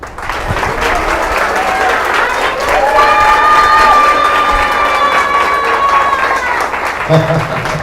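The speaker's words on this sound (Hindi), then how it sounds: "एक बार जोर से चीख कर चिल्लाकर ताली बजा दीजिए।" A large church audience claps, cheers and shouts together in a loud, sustained roar with whoops and voices rising above it, the noise dying down near the end.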